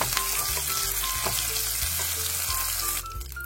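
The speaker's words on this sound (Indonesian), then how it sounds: "goreng sampai dengan bumbu cabai, bawang dan tomatnya matang ya, atau sampai dengan wangi lah" Chili, garlic, shallots and tomato fry in hot oil in a pan for sambal, a dense, steady sizzle and crackle with occasional stirring scrapes, close and loud without talk.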